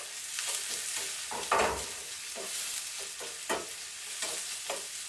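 Onions fry in a pan with a soft steady sizzle, broken by several scraping stirs of the spatula at irregular intervals, fairly quiet and without speech.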